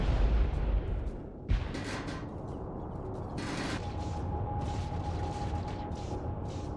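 A light strike cannon in a space ship battle video game fires at the ship Polaris, giving a few heavy, muffled booming shots with mechanical clanks between them, fairly quiet and with no talk.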